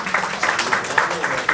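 Audience applause at a book launch at the DHA library, a steady patter of hand claps filling the short stretch at an even, moderately close level.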